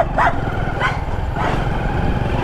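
Three sharp dog barks, evenly spaced about two-thirds of a second apart, ring out close by on a street at night over a steady low rumble of traffic.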